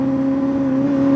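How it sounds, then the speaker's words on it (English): A motorcycle engine drones at fairly steady revs while the clutch is slipped during slow riding, a close, continuous hum with a strong low tone throughout. "you've got it in slightly, you can hear it revving up"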